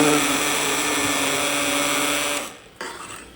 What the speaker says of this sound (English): But now we have this immersion blender